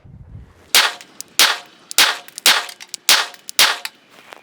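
Glock 42 pistol firing MagTech ammunition: six sharp, loud gunshots about half a second apart, each with a short ringing decay, close by with no talk.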